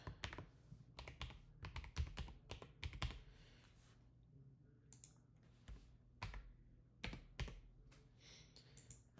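Quiet keystrokes on a computer keyboard while logging into a dispatcher account in a freight dispatch app, coming in short irregular bursts of clicks with brief pauses between them.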